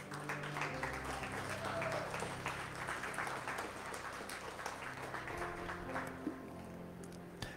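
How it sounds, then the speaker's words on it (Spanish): Church congregation clapping hands during a worship service, a dense, continuous patter of many hands heard from a distance at low level, steady throughout with a faint murmur beneath. "Dele palmas al Señor."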